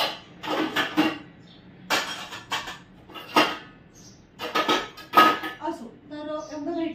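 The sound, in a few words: washing dishes and pots by hand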